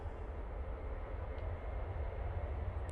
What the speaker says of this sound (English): Ryanair 737-800 now on the roll.